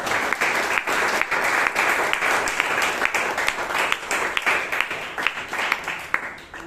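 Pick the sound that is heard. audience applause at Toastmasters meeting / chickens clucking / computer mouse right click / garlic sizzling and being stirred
audience applause at Toastmasters meeting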